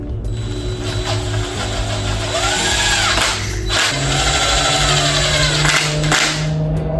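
Bolts are tightened on a K24 engine cylinder head during an MR2 K-swap engine assembly, with continuous ratcheting clicks and mechanical whirring that sound close and loud over constant background noise.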